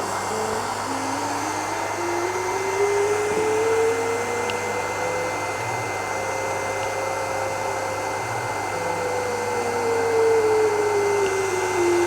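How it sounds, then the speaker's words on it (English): A 20-watt Longer Ray 5 laser engraver runs with its air assist turned on, giving a loud, steady blowing hiss over a low hum, with gentle rising and falling tones as the head moves. "we're going to turn the air assist on and see how it does"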